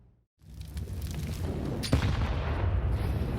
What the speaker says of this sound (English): That is a devastating nade